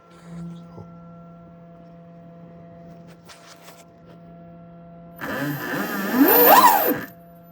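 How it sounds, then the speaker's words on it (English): A 2009 KTM XCF dirt bike converted to electric power with a QS138 motor and Votol controller spins up under throttle. It gives a rising and falling whine for about two seconds after quiet ticks and brief talk. "it should run right now if I just twist the throttle"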